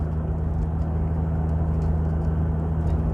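A Ford G6ET Barra engine, 700 hp with a 3000 stall converter, cruising steadily in 5th gear at 70 km/h, a constant low droning hum from inside the car without speech.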